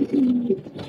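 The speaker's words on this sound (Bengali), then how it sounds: "রাতের বেলা কবুতর তো অনেক খাবার খায়" Pet pigeons coo nearby at night, one soft rolling coo followed by a shorter second one, close and fairly quiet with no talk.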